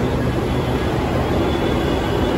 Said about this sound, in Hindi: ये है हमारा मेट्रो, काफ़ी स्पीड से आ रहा है।